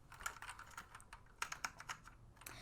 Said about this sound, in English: So I'm just gonna clack on it a bit for you guys. Hopefully you'll be able to hear the joy of typing on this.